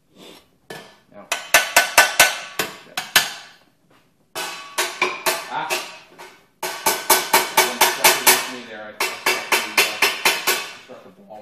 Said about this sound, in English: Struck the ball with the corner of the hammer